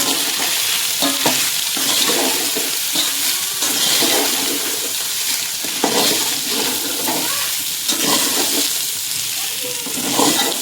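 Cooked rice being stir-fried in a tempering of spices for phodnicha bhaat scrapes and sizzles in the pan, loud and continuous, with repeated stirring strokes and no talk.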